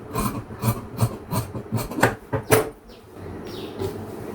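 Blouse fabric is cut in a straight line by a tailor, producing a series of rhythmic, close rasping strokes at a steady pace, followed by a few softer sliding rubs as the cutting stops.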